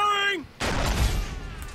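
A grenade goes off in Far Cry 3 online multiplayer: a sudden loud blast follows a brief tonal game sound and decays into a rumbling tail, with a player speaking just before.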